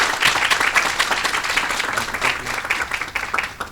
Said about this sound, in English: please give a round of applause for Commissioner Ellis.